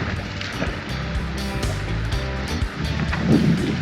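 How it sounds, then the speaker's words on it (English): Steady wind buffets loudly outdoors on a sailboat in Fiji, a broad rushing roar with gusts, mixed with what sounds like water lapping nearby. "You guys can probably hear that it's quite windy today"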